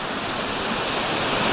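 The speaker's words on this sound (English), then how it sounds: "we just got to a really cool waterfall here. This is called Rock Creek." The waterfall at Rock Creek, a few miles from Burney Falls in dry pine forest, roars as a dense, loud, unbroken rush of falling water that fills the whole moment.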